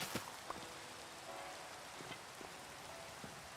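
Steady rain falls in the Minecraft video game, a constant soft hiss of drops with a few brief louder taps, heard alone at moderate level.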